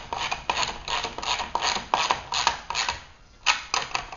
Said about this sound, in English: you can go ahead and tighten up the bolts that we installed in step 1 that connect the magnet assembly to the magnetic sweeper base